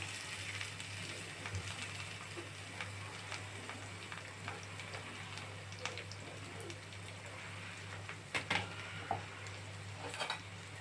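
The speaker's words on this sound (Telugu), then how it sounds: "సన్నగా కట్ చేసి పెట్టుకున్న దొండకాయ ముక్కలు వేసుకొని" Thinly sliced ivy gourd pieces fried and stirred in a pan, giving a steady close sizzle with a low hum beneath and a few sharper clanks of a utensil near the end, with no voices.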